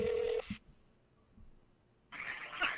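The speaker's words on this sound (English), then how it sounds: "I'll call her back on the cell phone." A cell phone places a call during a radio show, heard as a short tone at the very start, then a hushed pause before a burst of brighter ringing or line noise near the end.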